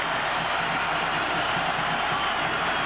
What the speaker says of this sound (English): The crowd sensing this moment.